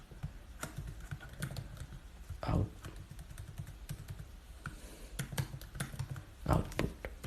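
Code for a PIR motion sensor project is typed on a computer keyboard in quick, uneven bursts of close key clicks, with a couple of heavier thumps like the space or enter key.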